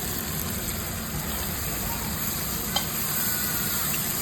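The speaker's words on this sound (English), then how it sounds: "I'm making chicken fried rice, so we're frying everything." Chicken fried rice with fried chicken breast and scotch bonnet pepper sizzling in a pan: a continuous, even frying hiss as it is stirred, with a single sharp click partway through.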